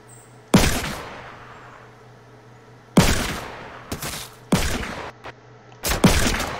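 Gunfire in the video game Fortnite: four or five sharp, loud single shots spaced a second or more apart, each with a ringing decay over a low steady hum, no talking.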